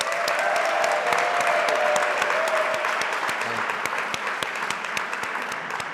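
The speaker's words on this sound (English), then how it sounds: "we should all give a very big round of applause" Audience applause welcoming a speaker at an in-conversation talk, with loud, steady clapping from a large crowd throughout and a faint sustained tone early on.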